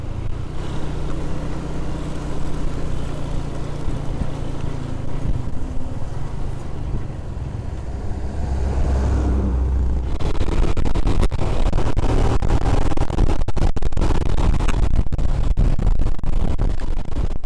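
A Honda Tiger 2000 motorcycle rides behind a PT RAPI intercity bus in Sumatra, giving a steady, loud engine and road drone that grows rougher and heavier partway through, with wind buffeting and no talk.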